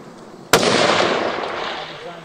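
A single long-range rifle shot at a shooting competition cracks sharply and loudly, then rolls off in a long fading echo across open ground.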